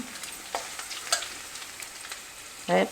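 Crushed ginger and garlic frying in a pan, with a soft, steady sizzle and a few light scrapes and clinks of stirring. The last moments bring a brief louder burst.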